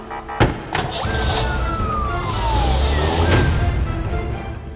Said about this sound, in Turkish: polisin siren sesini duydular